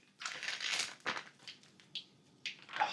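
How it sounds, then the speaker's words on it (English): A sharp knife cuts into a smoked venison roast with a few short, crisp crunching and crackling bursts as the blade breaks through the crust, close up, quiet and with no talk. "And now we're going to cut into the meat."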